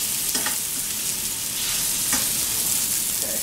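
Salisbury steaks sear in a hot pan with a loud, steady sizzle and crackle, broken by a few soft scraping stirs, close up and without any talking.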